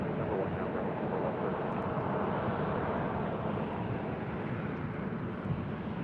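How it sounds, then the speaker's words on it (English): An American Airlines Boeing 787-8 Dreamliner arriving at LAX gives a steady, broad jet roar that holds level throughout, close and unbroken. "Next arrival is a heavy American Airlines Flight 26 coming from Tokyo Haneda, 787-8 Dreamliner."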